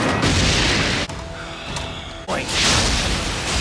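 An explosion effect in an anime fight, a loud sustained roar that cuts out abruptly, then a sharp rising burst and a second full, noisy blast.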